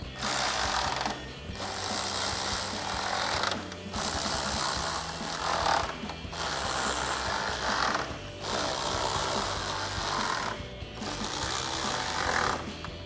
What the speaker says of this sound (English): we'll grab that 10mm socket again to tighten these down